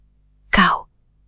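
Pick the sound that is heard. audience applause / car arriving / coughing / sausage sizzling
coughing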